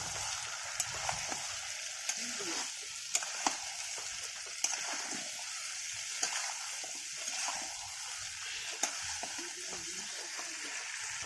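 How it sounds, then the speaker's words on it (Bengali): Chicken kosha sizzles steadily in a pan, with faint stirring scrapes and light taps from a spatula throughout, close and continuous. "নুন দিয়ে দিলাম, আরও 2 মিনিট নাড়াচাড়া করবো।"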